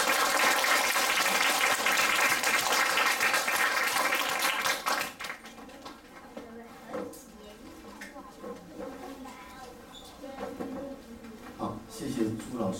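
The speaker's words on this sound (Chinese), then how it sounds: "所以我们要不要给他一个很热烈的掌声" Warm audience applause welcoming a visiting teacher at a children's weekend science talk fills the first five seconds, then stops abruptly and gives way to someone speaking with light room noise.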